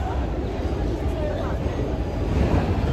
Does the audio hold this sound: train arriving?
yes